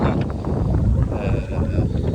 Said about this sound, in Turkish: Rüzgarlı biraz